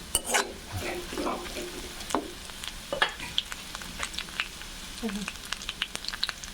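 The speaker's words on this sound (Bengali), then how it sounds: "কিছুক্ষণ আদা ভালোভাবে ভেজে নিব।" Grated ginger and chopped onion fry in a pan, giving a soft, low sizzle broken by sharp scraping clicks and taps as a spatula stirs through the mix.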